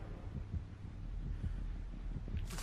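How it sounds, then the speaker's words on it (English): A low, muffled heartbeat warning from Dead by Daylight thumps in a steady rhythm under a faint droning hum, ending with a brief burst of noise. "Okay, I've got heartbeats coming my way."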